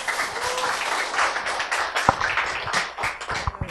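Audience applause welcoming a family onstage, a dense burst of many hands clapping at once, steady and fairly loud before tapering off near the end, with no talk over it.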